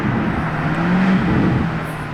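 A Lamborghini Huracán Performante drives by nearby, its engine a loud, steady roar with a rising tone as it passes, no voices over it.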